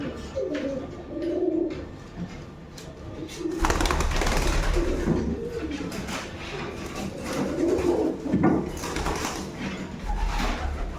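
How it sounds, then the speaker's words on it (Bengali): Rajshahi Giribaj pigeons coo steadily in a loft, the low rolling calls continuing throughout with some louder bursts of movement and rustling nearby. "এটা রাজশাহীর গিরিবাজ কবুতর"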